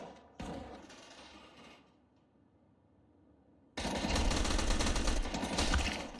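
A Counter-Strike match rattles with bursts of gunfire: a sharp volley, a quieter gap, then sustained loud rapid shooting that fills the rest of the moment.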